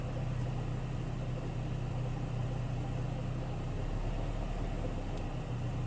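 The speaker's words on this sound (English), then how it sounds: "But basically, it's the sound of the pulley's wobbling," Wobbling A/C compressor pulley on a Saab 9-3, heard as a steady low engine-bay drone and hum with a faint, even whir and no talk over it.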